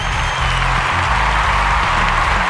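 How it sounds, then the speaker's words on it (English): A home crowd at a CWA wrestling show claps and cheers in a dense, continuous wash of applause, loud and sustained throughout. "this home crowd is giving them a warm welcome."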